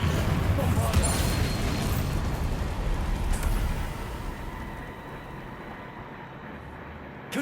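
A Bombarda blasting spell goes off in the game Hogwarts Legacy: a loud, broad explosive roar with deep rumble that slowly fades over several seconds.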